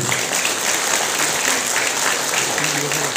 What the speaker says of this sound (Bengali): এই দিনবারের শুভ একটা জোরদার করতালি হোক